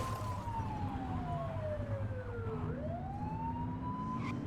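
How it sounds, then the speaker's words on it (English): A police car siren wails in the video game The Precinct, one long tone sliding down and then sweeping back up, sounding close over a low steady engine rumble. "Get on their tail and whip the siren."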